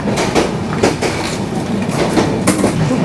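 The 12343 Darjeeling Mail passenger train runs on rails between Kolkata and NJP, loud and close, with a steady rumble and repeated clickety-clack wheel beats over the track joints.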